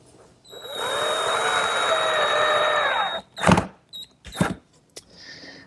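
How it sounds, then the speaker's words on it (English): A power drill drives screws to fix a plywood cleat onto a picture frame in a woodshop, giving one long steady whine followed by several short bursts. "Then I'll attach the cleat with some glue and screws."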